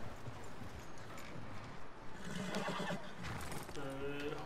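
Horse neighing and hoof clip-clop in Red Dead Redemption 2, near a stable; a whinny rises late over steady game ambience, with hoofbeats and background chatter throughout.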